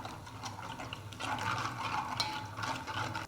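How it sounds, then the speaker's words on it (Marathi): A little water is poured into a pan of green spice paste with turmeric, garam masala and coriander powder, a soft, steady close pour and sizzle lasting several seconds, quiet and without talk. "यामध्ये थोडंसं पाणी घालायचं आणि याला चांगलं परतून घ्यायचं"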